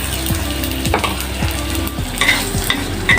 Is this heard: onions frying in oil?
yes